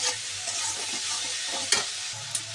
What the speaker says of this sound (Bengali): এবার চলো এটাকে সুন্দর করে ভেজে নিই, তারপর মশলাগুলিকে আমি অ্যাড করব।